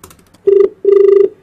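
Two loud, steady telephone ringback tones after a number is dialed, a short burst then a longer one, each a clean sustained beep separated by a brief pause.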